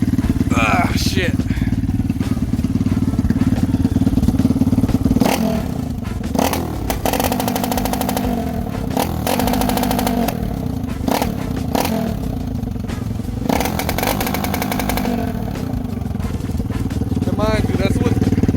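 A Lifan KP Mini 300 motorcycle engine with a custom exhaust idles loudly and close by, blipping the throttle in several sharp revs with some rattling clatter, while someone talks over it.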